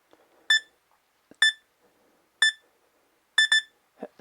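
Short electronic timer beeps, roughly one per second, then a quick double beep, clear and close in an otherwise quiet room.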